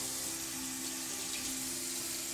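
Water from a kitchen tap runs steadily over a bowl being rinsed, a continuous gentle splashing hiss held at a moderate, even level for a couple of seconds with no talking.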